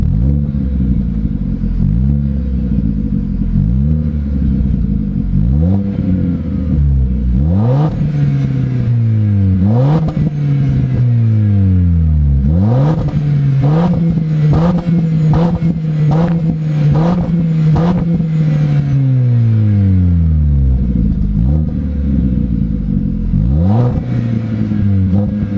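A Chevrolet Vectra GT sedan's engine drones at low revs from inside the car, rising and falling through repeated accelerations and gear changes, with a rough rumbling hum and occasional clatter and no talk over it.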